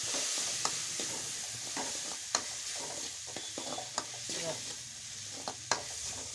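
Spoon stirring green chili paste, jaggery and turmeric powder in a pan over a low flame for jowar puffed-grain susla, with scattered scrapes and clinks over a steady soft sizzle, no talking.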